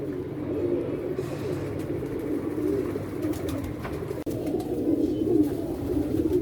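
Pigeons cooing nearby in a low, continuous warbling chorus of soft repeated coos, with faint background noise and no talking.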